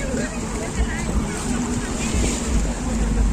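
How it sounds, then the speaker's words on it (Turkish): Wind buffets the microphone in a steady rushing roar, with water and surf sounds underneath and a voice talking, at a seaside festival in Pattaya, Thailand. "Ama burası çok rüzgarlı"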